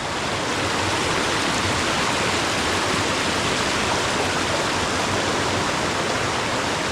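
Stream water at a farm flows in a loud, dense, unbroken rush close by, with no voices.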